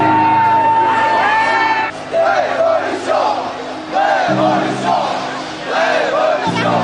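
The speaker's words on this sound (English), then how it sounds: "The screams of revolution here on the Champs-Élysées from the protesters" Yellow vest protesters screaming and chanting on the Champs-Élysées on Bastille Day: a loud crowd of shouts, whoops and battle cries in waves, with a horn-like drone early on and rumbling noise underneath.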